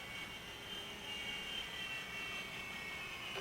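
An RC helicopter hovering in the air under gentle throttle, giving a steady, fairly faint whine and whir of rotor and motor that continues unbroken throughout.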